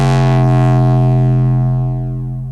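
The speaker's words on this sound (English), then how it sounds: "So we've got this 808 from the original track, which sounds like this." A deep, sustained 808 bass note from an electronic track booms alone, rich with low harmonics, slowly fading out at the end.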